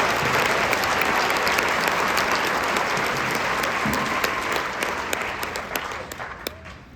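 An audience applauds jazz band players after a district jazz performance, a dense, loud burst of many hands clapping that gradually thins and fades toward the end.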